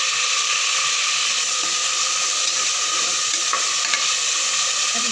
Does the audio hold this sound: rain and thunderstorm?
no